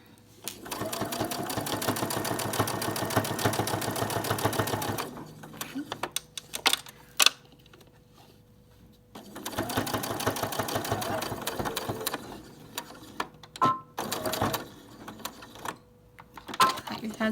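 A sewing machine stitches a zipper onto a fabric dog treat bag, running in two steady buzzing bursts of rapid needle strokes separated by quiet pauses with small clicks and handling noises.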